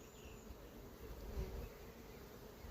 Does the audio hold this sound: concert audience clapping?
no